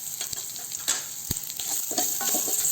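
Garlic, mustard seeds, cumin and pepper fry in a little oil, giving a steady soft sizzle with sharp crackles and pops from the spices and occasional stirring clinks.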